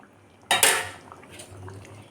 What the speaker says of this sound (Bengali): এবার এর মধ্যে আমি চিংড়ি মাছগুলো দিয়ে দেব